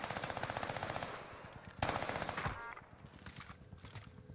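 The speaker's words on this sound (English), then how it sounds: "That's the long-range gunfight right there." An Armaguerra 43 submachine gun fires in the video game Warzone, sustained rapid bursts of closely spaced shots with a brief pause, loud and continuous over the whole stretch.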